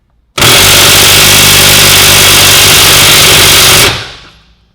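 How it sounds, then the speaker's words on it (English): An impact wrench hammering on a 24 mm upper control arm bolt of a 2011-2014 Mustang rear suspension, one loud, close, continuous rattling burst of about three and a half seconds that stops abruptly and rings out. "We're gonna try with an impact first."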